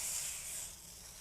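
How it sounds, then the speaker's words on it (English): A spray bottle mists water onto the edge of a Toyota Tacoma front door window during a tint install, giving a single steady hiss that fades slightly toward the end. "you're going to spray right at that edge"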